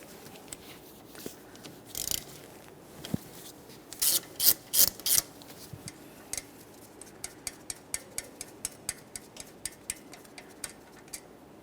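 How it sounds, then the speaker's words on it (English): Wrench working a 14mm caliper slider mounting bolt on a Toyota Sienna front brake: scattered scraping and rubbing, then a steady series of sharp metallic ratchet clicks, close and moderately loud, with no talking. "Now we can move along to removing our 2 caliper slider mounting bolts. We'll be using a 14mm for each of these."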